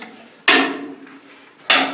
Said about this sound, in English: Strike, turn. Strike, turn. Called hammer and tap method of drilling.